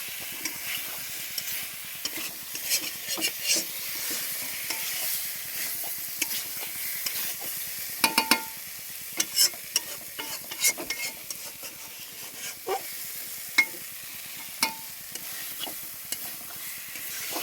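Masala being sautéed and stirred in a pan, a continuous close sizzle and hiss with rapid repeated spatula scrapes and taps throughout, no talking.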